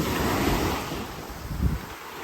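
Ocean waves wash onto a beach at Koh Samui in a continuous, close surf roar, with wind buffeting the microphone throughout.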